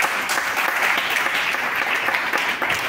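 A church congregation bursts into continuous applause, a dense, even patter of many hands clapping that fills the room and holds steady for a few seconds without talk.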